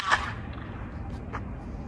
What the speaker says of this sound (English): That is the sound of broken in birch